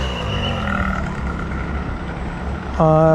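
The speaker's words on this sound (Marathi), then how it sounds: "सो ही निघाली बस" A state transport bus pulls away from a depot in Konkan, its engine a loud low rumble with a tonal hum, ending in a sharp horn-like tone, while a voice talks over it.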